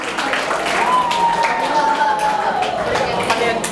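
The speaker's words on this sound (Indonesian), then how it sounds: "Tepuk tangan buat Kak Oris." A seminar audience at a school videography event claps for a speaker in a steady, close wash of applause, with a faint whistle-like tone sliding through the middle.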